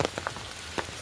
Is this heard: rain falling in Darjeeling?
yes